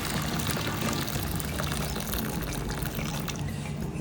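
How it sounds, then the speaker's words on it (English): Water pouring steadily into ogi batter, a continuous close splashing rush that stays level throughout without pause. "Pour this gently."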